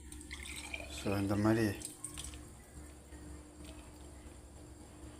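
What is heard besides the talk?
blended pumpkin seed drink dripping as it is strained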